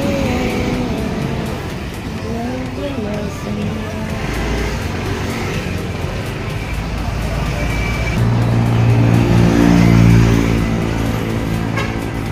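A blue Yamaha Aerox V2 scooter, freshly fitted with a disc brake, runs on a test ride, its engine droning steadily and swelling louder toward the end alongside other traffic noise.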